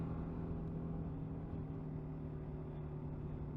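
A 2022 BMW G310 GS Rally single-cylinder motorcycle pulls uphill in third gear at about 30 mph, a steady, low, droning engine note heard from the rider's position, even and unbroken.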